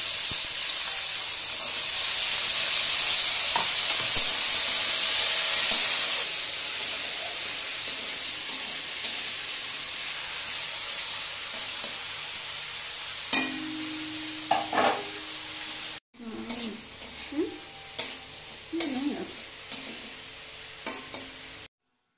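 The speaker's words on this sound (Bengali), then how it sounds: "আর সবজিগুলো আমি একদিকে ভাজা বসিয়েছি" Chopped vegetables for egg fried rice sizzle loudly in a hot pan with a steady hiss that later eases, followed by a series of clanking stirs and scrapes.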